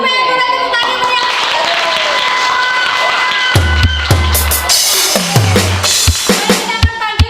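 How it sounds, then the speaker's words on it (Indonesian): An audience at a school fun game event hosted by the Kebumen Red Cross bursts into loud applause and cheering, with sharp claps, after the emcee's speech. "Boleh tepuk tangan meriah."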